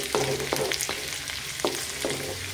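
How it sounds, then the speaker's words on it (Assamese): Onions sizzle steadily in a hot pan, with a few sharp stirring scrapes and clinks along the way. "এতিয়া এইখিনিও অকণমান ৰঙচুৱাকৈ ভাজি লওঁ।"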